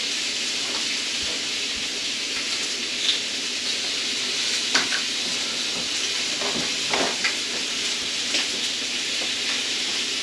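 Chicken sizzles and fries steadily in a pan, a constant bright hiss with occasional small pops and crackles, close and alone for about ten seconds.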